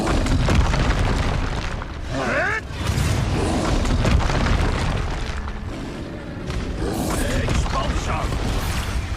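Expulso spell blasts in Hogwarts Legacy combat, loud booming bursts over a dense, continuous battle din with whooshing magical effects, one sharp sweeping blast early on and more crashes later.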